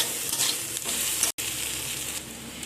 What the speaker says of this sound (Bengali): পেঁয়াজ আর রসুনটাকে একটু ভালো করে ভেজে নিচ্ছি